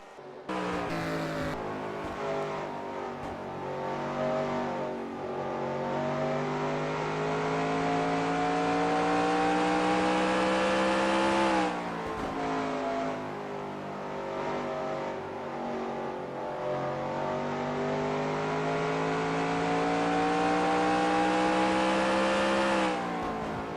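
Onboard race car engine lapping the Lucas Oil short track, a loud droning roar that climbs steadily in pitch through two long acceleration runs, each ending with a sharp lift off the throttle before revving again.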